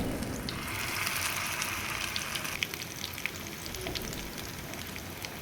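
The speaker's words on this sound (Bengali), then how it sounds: "তেলটা গরম হয়ে গেলে এতে বড়াগুলো একে একে দিয়ে দিচ্ছি।" Lentil fritters sizzle steadily in hot oil in a frying pan, a continuous soft crackling hiss with scattered small pops and no voices.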